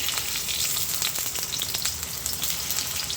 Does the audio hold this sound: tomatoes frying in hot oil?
yes